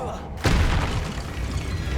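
A Flipendo spell cast in the Hogwarts Legacy video game lands as a sudden booming impact, followed by a sustained rumbling wash of sound that stays loud to the end.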